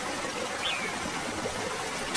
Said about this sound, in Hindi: जैसे जैसे बारिश तेज होती गई, बारिश का पानी पंछियों के घोंसले तक पहुंचने लगा।